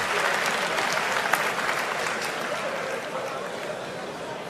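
Audience applause after a combat cane duel at a 1930s-themed demonstration, steady dense clapping from a sizable crowd, continuous and fairly close for several seconds.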